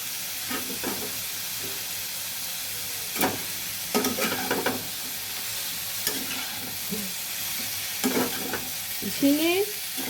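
Drumstick stems stir-fry in a hot pan with a constant loud sizzle, broken by several scraping stirs and clatters of the utensil against the pan.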